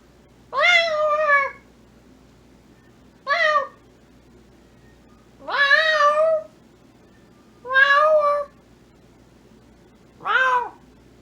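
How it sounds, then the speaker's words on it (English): A house cat meows five times, loud and close, each cry drawn out with a bending pitch and separated by pauses of a second or two. "Stupid cat."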